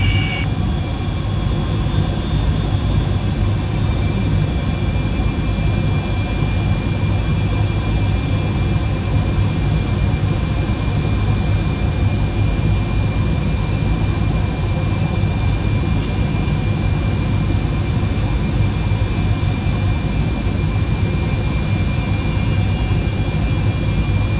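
A loud, steady roar of An-124 Ruslan aircraft engines, heard after landing while parked, drones continuously with a deep low rumble and a faint high whine, unchanging throughout.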